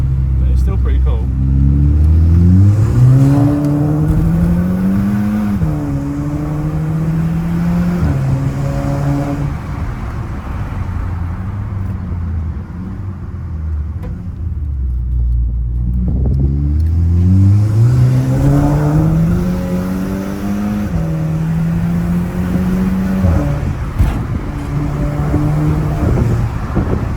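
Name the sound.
car engine revving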